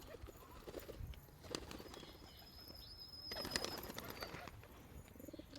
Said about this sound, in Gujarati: બધા કબૂતર આવી ગયા.